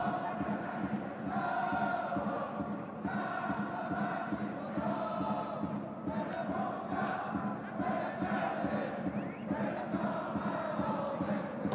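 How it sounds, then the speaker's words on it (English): Stadium crowd at a Vissel Kobe versus Shanghai Port AFC Champions League football match chanting a player's name in rhythmic, repeated swells, a dense mass of voices rising and falling over several seconds. "They're singing his name in the crowd, Sasaki."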